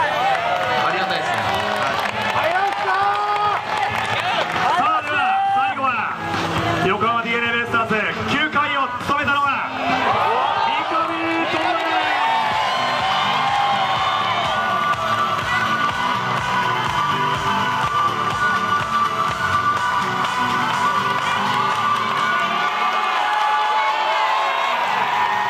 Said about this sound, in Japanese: この大歓声を聞いて感想一言お願いします。